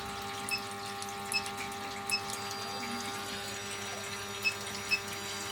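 A water vortex machine running inside a tank, giving a continuous steady hum with a resonant tonal drone and a few faint clicks, heard alone.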